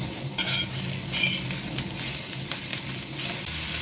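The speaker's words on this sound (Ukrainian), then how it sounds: "Обсмажую півхвилинки на середньому вогні, щоб гарно розкрилися всі аромати." Cabbage sizzles steadily in a hot pan over medium heat while a utensil stirs and scrapes through it, close up with no talking.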